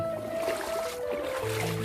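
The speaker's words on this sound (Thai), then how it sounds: "อันนี้สภาพลำธาร" A stream flowing through rural land on a misty hillside makes a steady, continuous wash of water with a faint tonal hum running through it.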